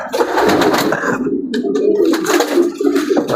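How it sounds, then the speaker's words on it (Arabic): Pigeons coo close by in a loft, with a dense mix of soft, throaty calls overlapping continuously among a crowd of birds. "هذا الحمام كله اللي كاين هنا كله عاطي."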